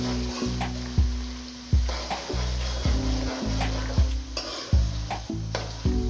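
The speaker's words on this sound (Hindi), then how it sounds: "अब हम अदरक लहसुन को थोड़ा सा भूनेंगे।" Ginger garlic paste fries in a pan for a Pakistani-style potato and egg curry, with a steady close sizzle broken by about eight rhythmic stirring scrapes of the spoon, and no talking.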